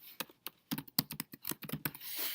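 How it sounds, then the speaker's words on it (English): Quick, irregular keystrokes on a computer keyboard while a course unit name is entered, clicking in short bursts and pauses, close and fairly quiet with no talking. "I'm going to type in the name of my unit, sample unit for Waukesha One."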